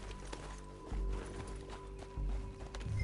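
Rhythmic horse hoofbeats in a PS4 video game thud along at a steady pace, with a low engine-like hum and faint background tones.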